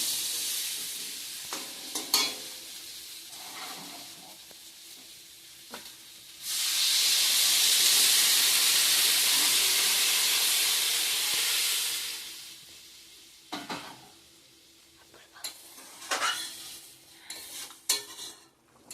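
Water is poured into a pan of potato and pointed gourd curry fried with spices, setting off a loud, rushing hiss that lasts several seconds. Quieter clinks and stirring come before and after it.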